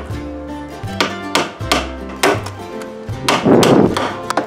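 Sharp strikes of a light hammer driving nails into wood for a small canopy, several irregular blows spaced apart, with a denser thudding burst near the end; close and fairly loud.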